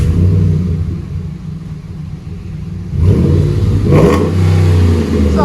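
A 2010 RAM 1500 4x4 pickup with 5.7L HEMI V8 and dual exhaust through an 18-inch DTM muffler into 4-inch rolled tips, idling with a deep rumble before one throttle blip swells and falls, close and loud.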